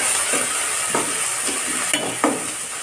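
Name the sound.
stirring tomatoes into fried okra palya in a pan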